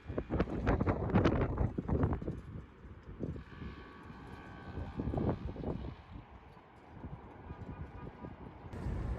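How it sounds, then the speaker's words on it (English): Gusty wind buffets a microphone outdoors on a walk, rumbling in heavy bursts that rise and fade, loudest at the start and again midway, with no clear speech. "I'm not even sure if you're able to hear me with the wind"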